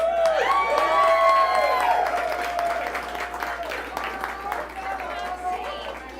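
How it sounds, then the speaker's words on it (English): An audience at a social media meetup event claps and cheers, a dense wash of applause with whoops and shouts that slowly fades. "Let's clap for them."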